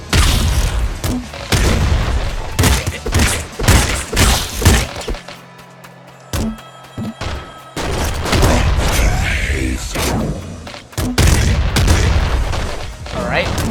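Rapid booming explosions and gunfire-like blasts from grenades in a Nuclear Throne boss fight, loud and dense, coming in clustered bursts with a brief lull midway, and someone talking over parts of it.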